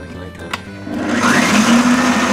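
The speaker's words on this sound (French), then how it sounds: "on passe tout en mixeur, hop, je mets ça en route" An electric blender starts up and whirs steadily at high speed, blending oranges, lemons and limes for citrus syrup, loud and close after a brief click and rising motor whine.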